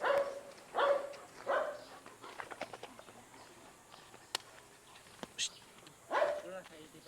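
Several sharp dog barks sound in a short series early on, followed by scattered clicks and one more bark, with faint background noise.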